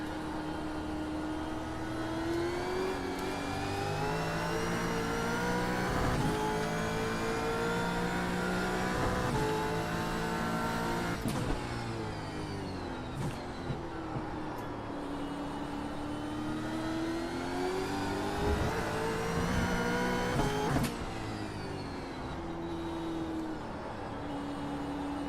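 A race car engine in iRacing, loud and continuous, its pitch sweeping up through the gears on acceleration and dropping on lifts, with a few sharp clicks from upshifts.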